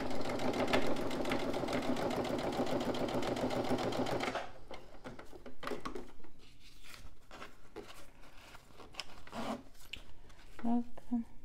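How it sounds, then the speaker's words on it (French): A sewing machine stitches a fabric pouch along an earlier seam line, running in a steady close whir for about four seconds before stopping, then soft fabric rustling and handling noises follow. "je vais coudre ici le long de ma précédente ligne de couture"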